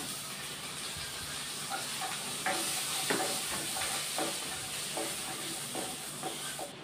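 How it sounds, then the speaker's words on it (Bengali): Dried lentil dumplings (bori) fry in oil with a soft, steady sizzle and hiss, with light scraping and stirring taps in the middle stretch, fairly quiet and close. "ডালের বড়িটাও ভেজে নেব।"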